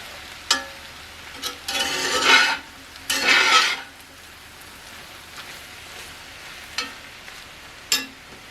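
Eggs for a farm-fresh breakfast scramble being flipped and mashed in a pan, heard as a few scraping, stirring bursts with short spatula taps between, fairly close and moderate in level, with no talking.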